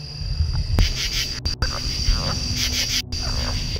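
Frogs croak at night in a forest in a dense, steady chorus, with insect-like trilling, a few sharp nearby clicks and faint voices now and then.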